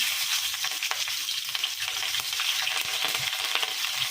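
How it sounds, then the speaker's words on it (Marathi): Cumin seeds and green chillies frying in hot oil in a home kitchen while corn palak is being made, with a steady, dense crackling sizzle and scattered sharp pops throughout. "आता तेल घालायचं आधी टाकायचं जिरे मग घालायची आपली हिरवी मिरची"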